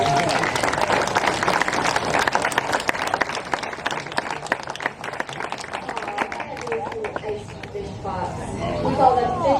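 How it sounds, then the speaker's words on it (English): An audience at a Como Park Zoo animal show in Saint Paul, Minnesota breaks into sustained applause, dense clapping mixed with crowd chatter that thins toward the end. "let's give our keepers and our stars a round of applause."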